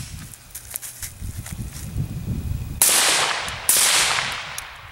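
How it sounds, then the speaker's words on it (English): A CZ 805 Bren rifle fitted with a Thompson Machine 30 Ti suppressor fires two sharp, muffled shots about a second apart outdoors, after a stretch of low rustling. "CZ805 Bren with the Thompson Machine 30 Ti."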